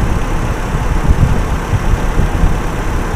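Toyota Kijang Super engine running steadily after a tune-up, its revs rising; a loud, continuous low rumble with a faint knock, close by and with no voices.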